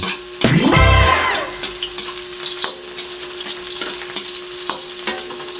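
Garlic and onion hit a hot frying pan for Filipino adobong pusit, opening with a loud burst of sizzling and stirring clatter that settles into a steady crackle with occasional spatula scrapes.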